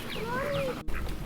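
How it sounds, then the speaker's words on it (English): Ducks quack nearby in a garden, a few short nasal calls over outdoor background noise, with a brief gap before the sounds continue faintly. "the ducks are coming out now that Bear's out of the way."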